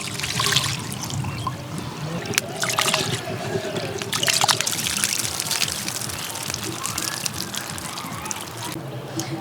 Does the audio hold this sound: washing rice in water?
yes